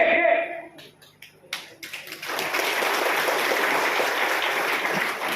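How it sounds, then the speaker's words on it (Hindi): A crowd at a Lok Sabha election campaign rally bursts into sustained applause after a short stretch of voice, with dense clapping that stays loud and steady to the end. "लेकिन आप लोग ताली मार रहे हैं यहां में"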